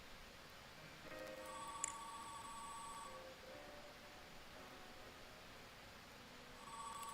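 An old-style telephone rings in a quiet room, its bell sounding in two faint bursts, a longer one and then another starting near the end.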